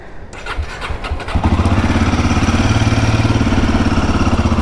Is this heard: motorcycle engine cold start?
yes